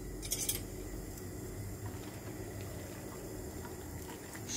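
Cabbage leaves pushed into a pot of boiling water, opening with a few sharp metallic clinks of a spoon against the pot, then a low steady bubbling and rumble of the simmering water.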